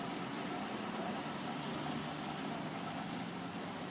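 Steady rain falls with a constant hiss and soft patter, even and unbroken throughout, no voices present.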